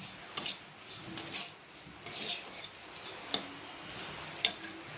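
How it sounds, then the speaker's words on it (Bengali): Rice is fried in a pan: a faint, soft sizzle runs throughout, broken by scattered scraping clicks from stirring, with no talk. "এখন ভালোভাবে চালটা ভাজতে হবে।"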